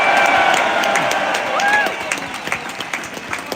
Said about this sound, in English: give them a big cheer that have taken their time to come here